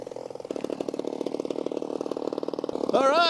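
A rich-running engine on an RC model P-51 Passion Wagon airplane drones loud and close, with a steady buzzing pulse that rises in pitch near the end as the throttle opens.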